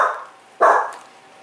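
A dog barks twice, two sharp loud barks close by indoors, the second one stronger.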